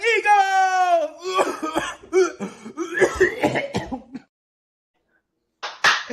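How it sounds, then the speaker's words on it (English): Football fans chant a Philadelphia Eagles fight song and talk loudly, then a short cough breaks out near the end after a brief silence. "I love you had the little cough at the end of it"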